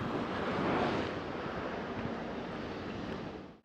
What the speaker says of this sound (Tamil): பாறையில் வந்து மோதி தண்ணி அடிக்குது பாருங்கள் மேலே.